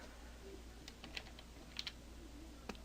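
Keys tapped on a computer keyboard at a desk, a handful of light, scattered clicks in an uneven rhythm, faint and close over a low steady hum.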